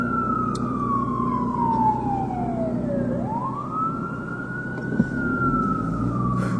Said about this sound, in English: we will pause here for the annoying sirens.